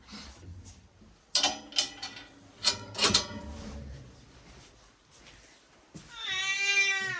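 A shelter cat with an injured paw meows several times in short, sharp cries, close by, amid faint mechanical creaks and handling noises, ending with a longer drawn-out meow.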